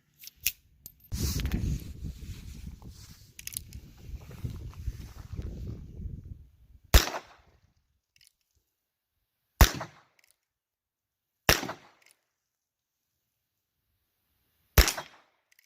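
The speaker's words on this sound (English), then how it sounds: "So we'll do some one-handed shooting." A Ruger Wrangler and a Heritage Rough Rider .22lr single-action revolver fire one-handed, sharp isolated cracks spaced a few seconds apart after some shuffling handling noise, with no talk.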